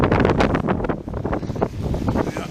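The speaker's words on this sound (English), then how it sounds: "Oh my lord, is it ever fucking windy today." Loud wind buffeting a microphone on a frigid winter street in Montreal, a constant roaring rumble with gusty surges throughout, no voices.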